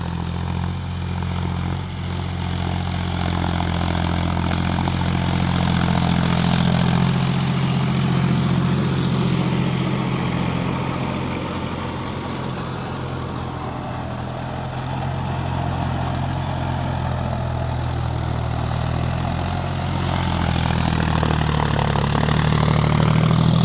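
A tractor pulls a 6-foot, 72-blade rotavator through farm soil, its engine holding a loud, steady drone with a deep low rumble that stays level for the whole stretch, with no talking.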